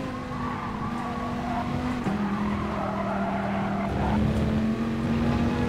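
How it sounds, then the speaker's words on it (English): Race car tires squealing through a corner in the Gran Turismo Sport video game: a steady, loud tonal screech that shifts pitch, layered over continuous engine roar with no speech. "I'm overdriving the shit out of these tires right now."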